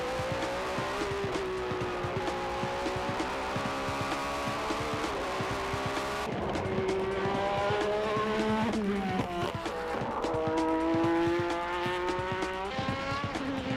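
Race cars lapping a circuit during a qualifying time attack, including Skyline GT-R and Supra GT machines, their engines loud and near, with rising and falling pitch from repeated acceleration and gear changes and occasional tire squeal.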